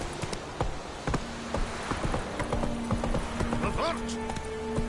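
Hooves of Roach, a horse in The Witcher 3, clip-clopping at a steady trot with an occasional whinny, heard alone throughout at a close, even level.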